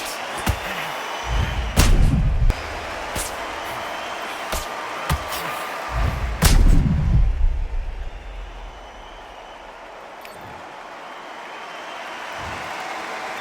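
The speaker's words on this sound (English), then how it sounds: "A big headshot and he goes down." Heavy boxing punches land in the video game Undisputed, a run of sharp, loud thudding impacts with booming low ends, clustered early and around the knockdown, then quieter crowd ambience.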